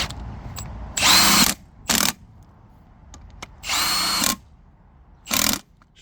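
A power tool, likely an impact gun, runs in four short whirring bursts as bolts are run in on a truck's rear brake calipers, with brief pauses and light clinks between bursts, close and loud.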